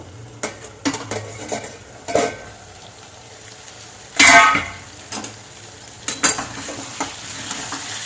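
Lid lifted off a cooking pan of potatoes on a low gas flame, a sharp metallic clatter followed by gentle sizzling, with scattered clinks of utensils before and after.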